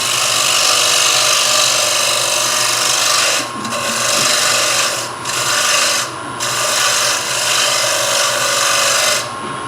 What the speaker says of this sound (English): I'm going to go back to my skew chisel because I can get that down into this corner.